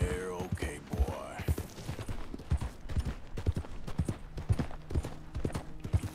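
Horse hooves clip-clop at a walking pace in Red Dead Redemption 2, a close, rhythmic series of soft thuds across the whole stretch, with a voice speaking over them at the start.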